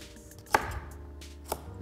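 A kitchen knife slices broccoli stems finely on a cutting board while making pasta with broccoli, giving two distinct sharp chops about a second apart against a quiet room.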